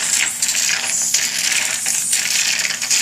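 A loud, continuous gurgling suction noise slurping up thick material, with a harsh rattling hiss and no speech.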